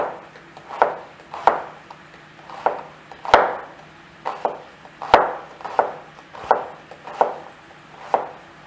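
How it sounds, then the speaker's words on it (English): A kitchen knife thin-slices a vegetable on a cutting board, a steady run of sharp, close chops about every half second, each ending in a knock on the board, with no talking. "And we're thin slicing these."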